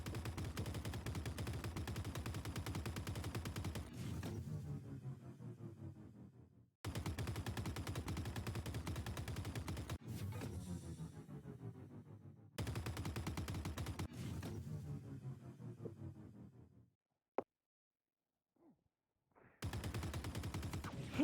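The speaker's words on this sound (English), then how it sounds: "they're shooting" Video game gunfire: long, dense bursts of loud automatic fire repeat several times, separated by short silent gaps, with no talking over them.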